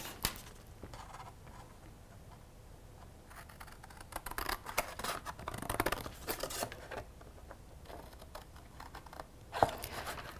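Scissors snip through a paper template in an irregular run of crisp cuts and rustles, close and clear, with louder bursts of snipping midway and a sharp click near the end.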